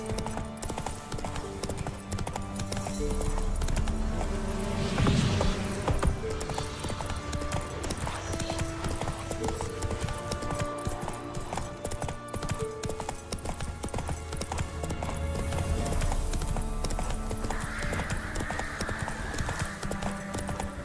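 Roach, a horse in The Witcher 3: Wild Hunt, gallops with rapid rhythmic hoofbeats that run continuously under game music and ambience, with a brief snort or whinny partway through.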